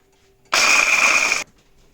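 Walnuts whirring in a blender to be chopped fine, a loud steady grinding roar that starts abruptly, runs for about a second, then cuts off into near silence.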